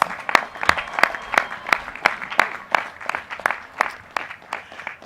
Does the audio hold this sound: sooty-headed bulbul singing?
no